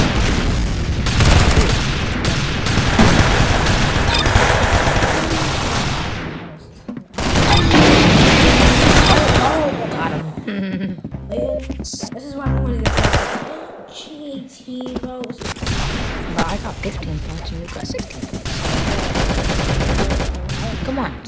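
Rapid automatic gunfire and booming shots in the Roblox game Arsenal come in loud dense bursts, with a few short gaps. A player talks over the shooting at times.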